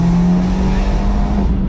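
An Abarth 124 Spider with a Monza exhaust drones loudly and continuously at close range, a steady engine note holding throughout with a slight rise near the end.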